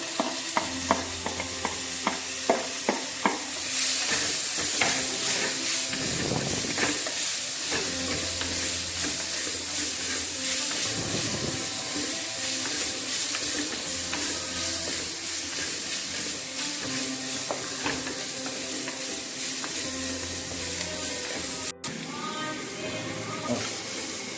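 Cowpeas stirred and fried in a pan with a little turmeric powder, a continuous sizzle with repeated scraping and clattering of the spoon throughout, while a voice talks at times over the cooking.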